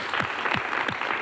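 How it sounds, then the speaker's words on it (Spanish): Short burst of audience applause at a televised debate, quick rhythmic claps that sound like a small group, close and moderately loud. "Un aplauso para ellos."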